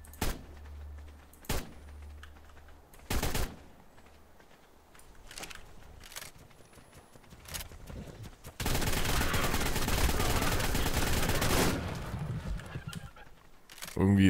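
Pistol gunfire in the video game Ark: Survival Evolved Aberration, with a few sharp, loud shots spaced irregularly amid game noise and a long dense burst of sound in the middle.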